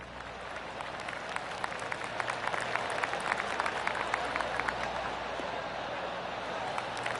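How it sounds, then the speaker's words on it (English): Spectators around a golf course give scattered polite claps, a soft patter of many separate hands heard at a distance over low background noise. "Oh, I can hear the golf claps around the course."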